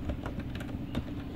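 Keys on a computer keyboard tapped a few times in quick succession, soft close clicks over a steady low hum, with no talk.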